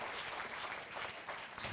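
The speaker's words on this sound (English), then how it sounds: "A bigger round of applause" Brief burst of audience applause at an international education conference, a dense steady clatter of many hands lasting under two seconds.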